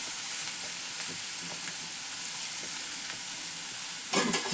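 Bitter gourd frying in a pan, a steady hissing sizzle held throughout at an even level, with a brief burst of stirring clatter at the end.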